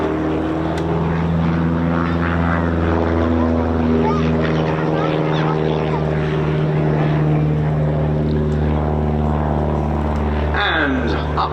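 Aircraft flying an aerobatic display at an RAF East Kirkby airshow, with a loud, steady propeller-engine drone that holds throughout under a commentator's voice.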